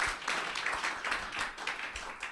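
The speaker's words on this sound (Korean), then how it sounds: "큰 박수 부탁드립니다." Quiet, steady applause from a seated audience at a construction-industry breakfast forum, a dense patter of many hands clapping throughout without a break.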